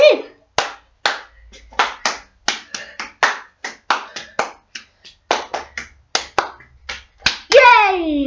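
A child claps hands while spinning, sharp close-up claps in uneven bursts with short pauses between them, ending in a brief vocal squeal.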